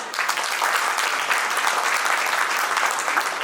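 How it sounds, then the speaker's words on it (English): Audience applause at a preschool annual day, a dense steady wash of many hands clapping for the whole stretch, loud and close with no talk over it. "A big round of applause for him."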